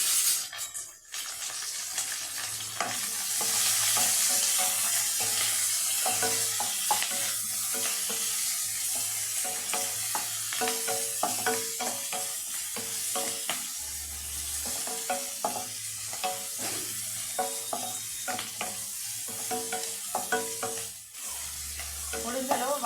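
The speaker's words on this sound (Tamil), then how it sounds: "இப்போ வந்து காஞ்ச மிளகாய், தட்டி வச்ச பூண்டு, கறிவேப்பிலை, வெங்காயம் நல்லா வதக்கி வச்சுக்கணும்." Dried red chillies, crushed garlic, curry leaves and onion sauté in a hot pan, with a steady sizzle and frying hiss throughout and repeated stirring scrapes of a spoon against the pan.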